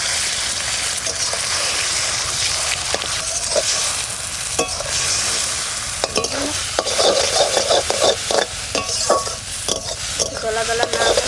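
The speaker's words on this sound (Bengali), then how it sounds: "ডিমটা ঝুড়ি ভাজার মতন ভেজে নেব।" An egg is fried and stirred in a pan after greens, crackling with a steady sizzle and frequent scraping strokes of the spatula, close and fairly loud.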